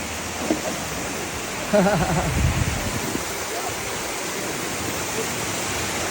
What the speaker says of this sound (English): With this awesome waterfall.